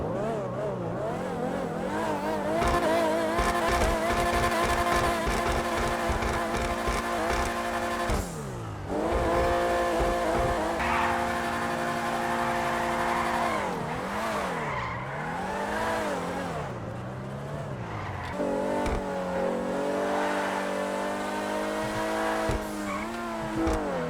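A sports car in GTA Online revs hard, its exhaust rising and falling through repeated climbs and drops in pitch, with tire squeal and skidding mixed in over a steady loud engine drone, no talk.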